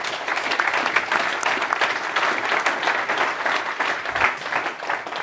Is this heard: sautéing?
no